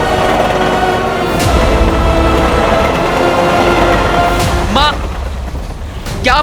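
A train thunders through a fantasy TV drama scene as a loud, continuous broadband rumble filling the whole clip, with brief vocal cries near the end.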